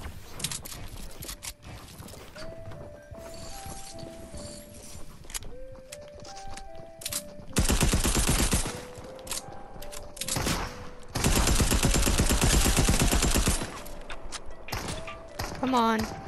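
Rapid bursts of gunfire from a bot in the Fortnite video game, two loud dense volleys of shots amid game sounds and background music, with a player's voice talking in between.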